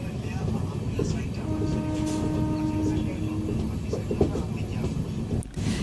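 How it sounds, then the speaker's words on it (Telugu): Amrit Bharat train pulling away from the small Lakkidi station after a halt, a steady rumble of wheels and carriage noise with a brief horn-like tone, continuous and fairly loud from on board. "ఒక 5 నిమిషాల హాల్ట్ తర్వాత మన ట్రైన్ తిరిగి బయలుదేరింది."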